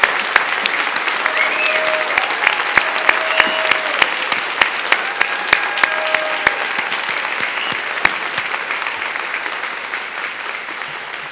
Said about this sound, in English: please join me in giving the outgoing Select Board a round of applause